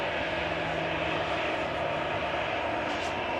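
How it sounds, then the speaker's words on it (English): An airliner aborts its takeoff at Manchester Airport in wet weather, and a steady distant engine roar holds beneath a broad wash of wind and rain noise. "Ah, so we've had a rejected takeoff here."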